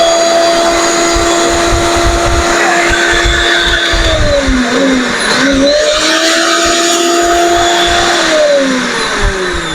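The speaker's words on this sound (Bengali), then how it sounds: "এখন যদি চালাই ওয়ান স্পিড টু স্পিড" An Orpat blender with a steel bush running and stepped through its speeds: a loud, steady motor whine whose pitch dips briefly near the middle and then settles back high, with no talk over it.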